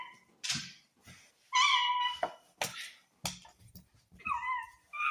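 A cat meows several times in short, separate calls, some rising and whiny, close by with quiet gaps between them and no talk.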